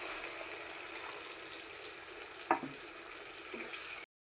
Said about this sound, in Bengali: এই মিক্সির বাটিটা ধুয়ে একটু জল দিয়ে দিচ্ছি।